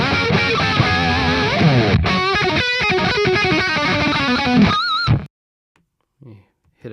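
A heavily distorted electric guitar plays a busy, tight riff through a Kemper Profiling Amplifier profile. It is loud and continuous, then stops abruptly, leaving near silence with a couple of faint sounds.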